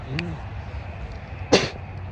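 A single sharp sneeze bursts out near the microphone after a brief vocal sound, with quiet room noise around it.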